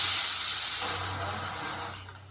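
A pressure cooker whistle releasing steam while cooking mutton biryani, a loud sharp hiss that holds for about two seconds and then tapers off and cuts out.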